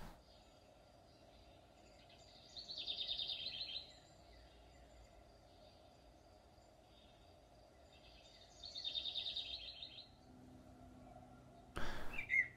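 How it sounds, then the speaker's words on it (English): An electronic bird call from a small PIR-sensor box gives two short, quiet chirping bursts several seconds apart over faint background noise. A sharp click comes near the end. "it makes bird sound whenever it detects something on the PIR sensor"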